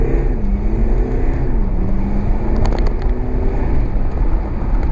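An Infiniti QX30 in sport mode pulls hard under acceleration, with a steady engine drone whose pitch climbs and shifts through gears, heard from inside the car and close, with no talking.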